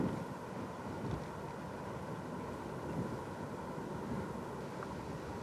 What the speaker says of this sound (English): Another gust of wind.